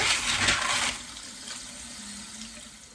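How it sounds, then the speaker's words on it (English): Tap water runs strongly for about a second, then continues softer as salted beef is washed with vinegar in a sink, with no voices. "I'm going to be washing the beef with vinegar like I normally do."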